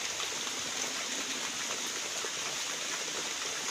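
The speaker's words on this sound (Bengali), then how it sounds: "কি সুন্দর ঝিরিঝিরি করে বৃষ্টি পড়ছে" Light drizzle falls over a home courtyard as a steady, even hiss of fine rain, continuous and unbroken, with no voices.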